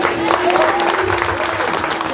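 An audience at an evening stage event in Lyon claps in steady, dense applause that fills the room, with a voice speaking over the clapping.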